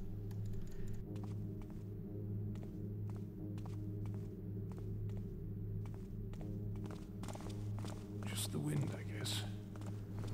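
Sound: footstep sounds from the wind in video game Thief

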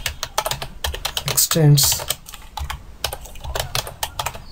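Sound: typing on a computer keyboard

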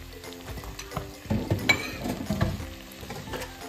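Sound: pasta being sautéed in sausage and porcini mushroom sauce

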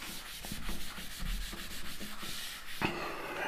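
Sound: rubbing out rough work

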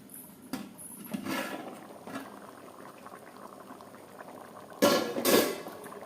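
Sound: khichuri boiling in a pot as the lid is opened

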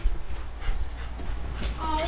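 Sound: dog panting and whimpering

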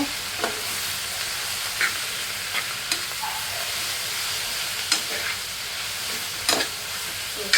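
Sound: frying greens in a pan

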